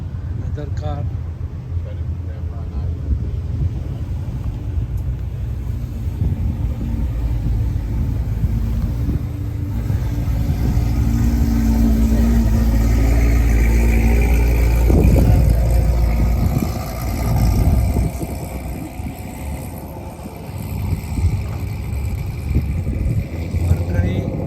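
Antique car engine idling at an outdoor classic car show, a steady low rumble running throughout with people talking nearby over it.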